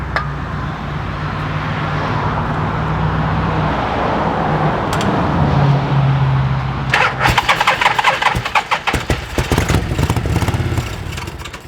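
A Harley-Davidson motorcycle engine that sat for 12 years runs steadily up close, with a low, even idle that turns into choppy, uneven revving and popping bursts toward the end, and no talk over it.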